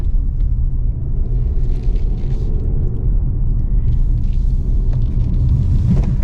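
A 2024 Hyundai Santa Fe SEL AWD with a 2.5-liter turbo four-cylinder drives along, giving a steady, loud low rumble of engine and road noise that runs throughout, with no talking.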